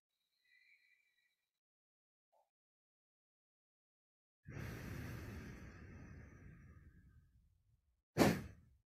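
One long breath drawn in through a single nostril during Tibetan purification breathing, a close airy rush lasting a few seconds, followed by a short sharp exhale; otherwise near silence.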